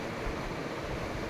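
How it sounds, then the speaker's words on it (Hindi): A spray bottle mists water onto hair during a haircut, giving a steady, close, full hiss that runs unbroken for just over a second. "तो पानी का स्प्रे किया"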